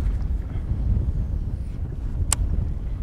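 Steady wind rushes and buffets across the microphone outdoors while fishing from a boat, a continuous low roar with one brief sharp click near the end and no talk.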